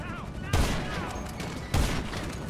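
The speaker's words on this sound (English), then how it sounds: "someone's got some serious guns down there" Gunfire in the online video game GTA Online. Two loud, heavy blasts about a second apart are each followed by a dense rattle of shots, over a busy game soundscape.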